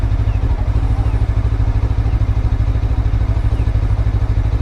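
Lifan KPT 400 motorcycle ridden with a 43-tooth rear sprocket, a steady low engine drone with rhythmic mechanical pulsing throughout, loud and close, with some wind rumble and no talking.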